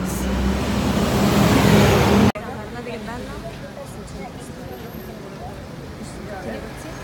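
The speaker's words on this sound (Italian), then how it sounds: "Un autobus." A bus on a street in Menorca roars loudly past for about two seconds, then cuts away to quieter street ambience with voices chattering in the background.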